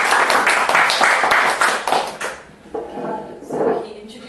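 An audience applauds to welcome a lecturer at a book-launch lecture event, a burst of dense clapping for about two seconds that fades out before someone starts talking.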